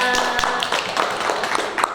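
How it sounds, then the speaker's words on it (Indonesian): Classroom audience clapping for a student named Vina during a group guidance session, a burst of scattered, close hand claps with uneven rhythm over roughly two seconds. "tepuk tangan buat Vina"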